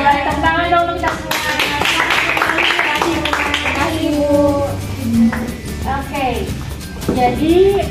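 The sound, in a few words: class applauding, clapping hands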